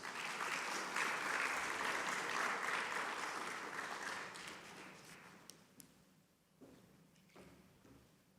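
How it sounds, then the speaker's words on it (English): Warm audience applause at an SDGs opening ceremony swells for about four seconds, then fades into scattered claps and faint shuffling as the crowd settles. "A round of applause."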